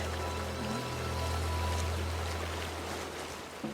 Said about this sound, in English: We eventually did find the waterfall, which was not impressive.